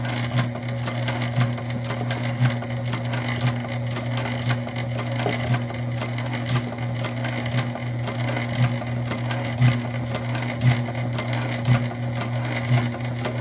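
A sewing machine runs steadily, stitching extra layers through the handle of a fabric book-bag tote, with a constant motor hum and a regular needle tick of roughly one stitch every second, close and clear with no talking.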